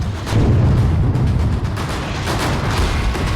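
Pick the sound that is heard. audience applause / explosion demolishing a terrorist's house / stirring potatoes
explosion demolishing a terrorist's house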